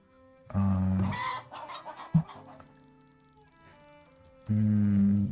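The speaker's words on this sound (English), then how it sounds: "Chicken coops." Chickens at a coop in the video game Farthest Frontier: a close, loud burst of clucking and squawking, a quieter stretch, then another loud clucking burst at the end, with no talk.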